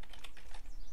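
Quick typing on a computer keyboard, a short burst of light, close clicks with an uneven rhythm.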